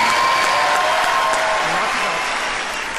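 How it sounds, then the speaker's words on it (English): Studio audience applause on a televised talent show, a loud, dense wash of clapping that fades slightly toward the end, with a faint tonal hum beneath it. "Applause, please."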